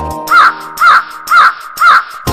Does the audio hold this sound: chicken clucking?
no